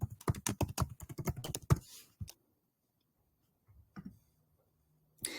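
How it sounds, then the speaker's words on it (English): Rapid, close clicking of keys on a computer keyboard, a quick burst of typing followed by a few isolated taps in a quiet room. "we can type in happy birthday"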